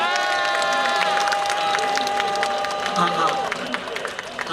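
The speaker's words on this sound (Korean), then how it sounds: "여러분 큰 박수로 맞아주시면 고맙겠습니다" A crowd claps and cheers close by at an outdoor political campaign rally in Yeongdeungpo, Seoul, a busy wash of hands with raised voices over it, tapering slightly toward the end.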